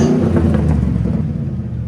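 A car engine with a Dynomax muffler rumbles loudly and steadily throughout, with a deep low exhaust drone and a slight throttle swell near the start.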